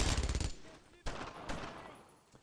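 Machine gun fire in the World War II shooter Brothers in Arms: Road to Hill 30: a loud rapid burst, then two more sharp gunshots with echoing tails, amid battle noise.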